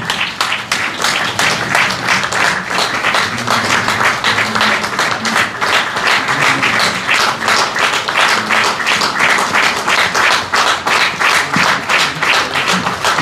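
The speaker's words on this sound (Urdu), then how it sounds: "آپ کی بھرپور تالیوں میں میں چاہوں گا کھڑے ہو کے ان کا استقبال کریں" An audience at a book inauguration event gives a long, dense round of applause to welcome Professor Aqeel Danish. The clapping is sustained and close, with faint voices beneath it.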